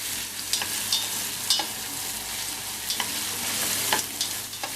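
Finely chopped onion frying in very hot oil for a vegan pasta, a bright, steady sizzle with a few scraping stirs and light taps at intervals, close and without voices.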